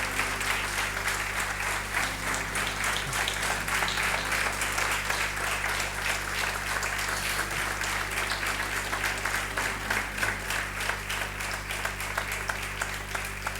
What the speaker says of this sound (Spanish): Aplaudir al Señor, por favor